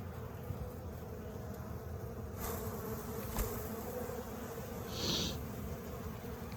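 Honeybees buzz steadily around an opened beehive, a continuous close drone with a brief louder hum passing near, no talking.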